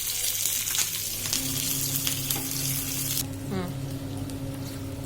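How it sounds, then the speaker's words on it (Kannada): Mustard seeds and green chili frying in hot oil for a hyacinth bean roti topping, a steady close sizzle with a stir partway through. "ಹಿಂಗ ಬರೀ ಸಾಸಿವೆ ಮೆಣಸಿನ್ಕಾಯಿ ಹಾಕಿ ಹುರ್ಕೊಂಡು ಹಾಕೋಬೋದು."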